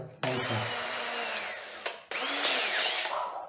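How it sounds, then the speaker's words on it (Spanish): A power drill bores a pilot hole for a screw in a wooden corner shelf, whining loudly and steadily, stopping briefly, then spinning up again close by. "Y para que nuestro tornillo pueda quedar metido, vamos a meter una broca."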